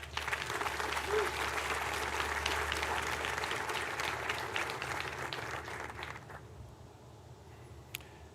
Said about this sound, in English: Please give a round of applause for the Raging Bulls.